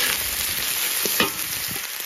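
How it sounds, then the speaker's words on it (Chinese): Washed beef brisket stir-frying in hot oil in a wok, a steady close sizzle with faint stirring scrapes, no talk. "油热，洗干净的牛腩倒进来炒"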